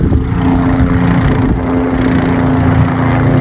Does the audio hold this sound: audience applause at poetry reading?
no